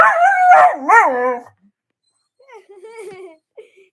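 A dog howls in two drawn-out, wavering bursts lasting about a second and a half, close and loud, then answers with softer, broken yips and whines after a short pause.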